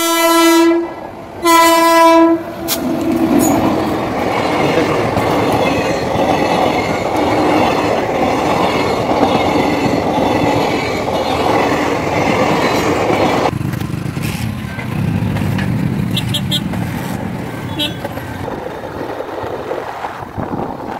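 A train rolls past a lowered railway level crossing gate on a village road in India. A horn blast opens the clip, then a loud, steady rumble of wagons and clattering wheels runs continuously close by.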